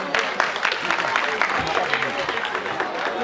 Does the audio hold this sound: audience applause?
yes